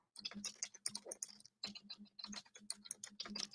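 Rapid, close keyboard typing in uneven bursts with short pauses, crisp clicking keys in a quiet room, no voices.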